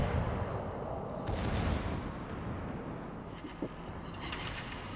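World of Warships naval gunfire as a cruiser's main battery fires armor-piercing shells, a dense rumbling barrage with a couple of heavier booming volleys and one sharp crack, steady and fairly loud throughout.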